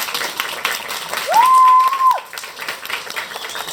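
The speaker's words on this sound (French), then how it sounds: "On peut applaudir très très fort le dauphin." An audience at a live pirate-themed stage show claps for the dolphin, dense applause throughout with a whistle-like tone rising over it briefly in the middle.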